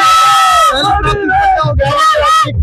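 A large, excited crowd cheers and shouts in celebration of a Delhi MCD municipal election win. The roar is loud and sustained from start to finish, with bursts of yelling and whoops.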